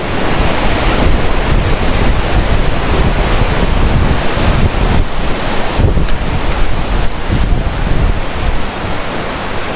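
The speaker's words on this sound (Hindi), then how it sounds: "पानी का शोर भी बहुत ज़्यादा है।" Loud, steady rush of water fills Saklikent canyon, a broad roaring wash with gusty wind buffeting close, continuous and without a break.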